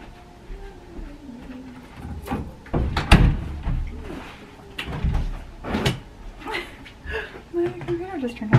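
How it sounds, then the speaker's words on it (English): A door pushed shut at home, heard as a couple of thumps amid nearby speech and handling noise. "let me close my door"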